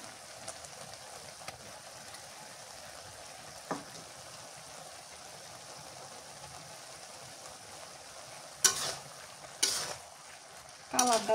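Shredded cabbage fries in a kadai, a faint continuous sizzle with occasional scraping clinks of the spatula stirring, louder scraping bursts near the end.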